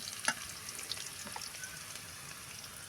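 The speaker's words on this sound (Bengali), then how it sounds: "পেঁয়াজটা ঠিক তোমরা এরকম করে ভেজে নেবে" Onion sizzles softly in a frying pan with a faint steady crackle and a few light stirring clicks close by, with no talking.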